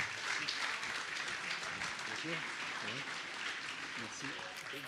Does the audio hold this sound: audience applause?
yes